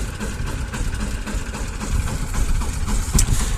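A Zhmerynka conveyor potato digger runs through a potato harvest, giving a steady low mechanical drone with rattling and clanking, rising slightly near the end, with no talk.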